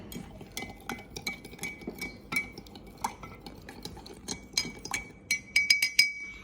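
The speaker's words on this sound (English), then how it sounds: "Now after you're done, stir it again." A spoon stirring a drink in a glass, sugar added, giving repeated bright clinks against the glass that come faster and louder toward the end over a faint swirl, close up and without speech.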